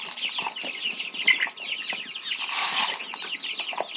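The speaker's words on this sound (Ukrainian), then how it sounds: "Уже видно, де півник, де курочка." Young chickens and roosters cluck and chatter in a poultry yard, a busy, close, continuous flock sound with overlapping calls and no talking.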